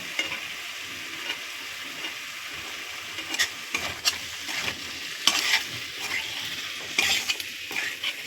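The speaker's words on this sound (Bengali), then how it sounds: "আদা রসুনটা একটু বেশি দেবে কেননা তেলের তো একটা আষ্টে গন্ধ থাকে এবার ভালো করে মিশিয়ে নেব" Ginger and garlic paste is stirred into a fish curry in a pan over a soft background sizzle, with a spoon scraping and knocking against the pan in irregular bursts, close and fairly quiet.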